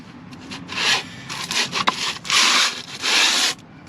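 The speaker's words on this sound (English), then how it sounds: "sand the top of the block." A flat 12-inch piece of 1x4 wood is rubbed over the top of a Ford 5.4 liter engine block, giving loud, close, raspy back-and-forth sanding strokes in an uneven rhythm.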